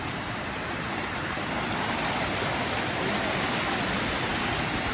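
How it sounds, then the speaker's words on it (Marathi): A small waterfall near Mumbai and Pune pours in a loud, close, unbroken rush of falling water, a dense steady roar filling the whole moment with no other sounds. "इथे एक छोटासा धबधबा आहे"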